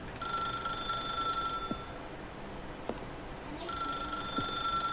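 A telephone ringing in the video game The Stanley Parable, an electronic ring in two long bursts separated by a pause, loud and alone with faint clicks between.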